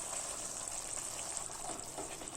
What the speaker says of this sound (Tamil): இப்போ நம்ம அரைச்சி வச்ச இந்த மசாலாவை இதில் சேர்த்துடலாம்.